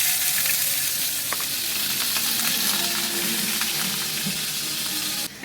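Shrimp and taro stolons cooking in a pan, a continuous bright sizzle with faint stirring scrapes and clicks, steady and close, no talking.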